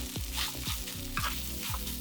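Cooked rice fries on a griddle in rendered pork belly fat after grilling pork belly with water parsley, giving a steady close sizzle broken by repeated scraping and stirring strokes, with no voices.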